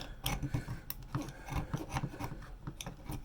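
Close, rasping scrapes in short uneven strokes as an old, perished gasket is scraped off a heating element base, coming away in pieces, with no talk.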